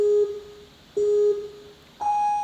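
Obstacle course countdown timer sounding three loud electronic beeps spaced about a second apart, the first two at the same pitch and the last higher, each a steady tone that cuts off cleanly.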